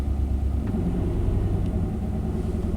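A 1991 Chevy K1500 pickup truck engine idles at a fast idle of about 1500 RPM, a steady, close, low rumble with an even drone and no voices.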